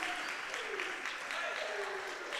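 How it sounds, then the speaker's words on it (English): A crowd applauds the teams after a boys' basketball championship game between Kingsville and Windsor, steady clapping filling the space while a voice speaks over it. "let's give each of these teams a great round of applause"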